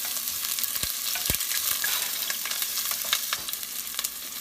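Onions and garlic fry in hot oil as a steady, close sizzle with scattered pops and crackles, continuous throughout and without talk.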